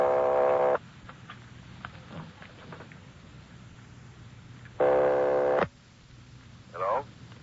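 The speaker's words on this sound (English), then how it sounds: "They're ringing the number, Sergeant." An old-fashioned telephone ringback tone sounds over the line in two long bursts with a pause between, part of a 1949 radio drama, with brief voices in between.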